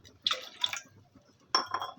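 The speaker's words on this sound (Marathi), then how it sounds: "तर या ठिकाणी मी थोडंफार पाणी घालून घेतलेलं आहे" Water poured into a cooking pot for milk-based kheer, in two short splashing bursts with a gap of quiet between them, close and fairly loud.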